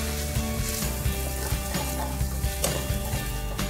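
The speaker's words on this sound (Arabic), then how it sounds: "نحرك مزيان" Ingredients for an Asian-style soup stirred in a pot, a loud steady sizzle with repeated rhythmic scraping and knocking of the spoon, close up with no speech.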